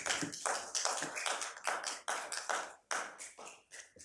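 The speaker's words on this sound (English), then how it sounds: "I'll wait till the applause dies down." Applause at a council meeting after a delegation's presentation, a dense run of close, uneven hand claps, moderately quiet and continuous with no talk over it.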